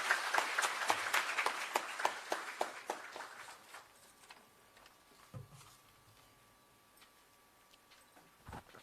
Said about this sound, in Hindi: मुख्यमंत्री जी के लिए आपकी जोरदार तालियां लगातार बजती रहनी चाहिए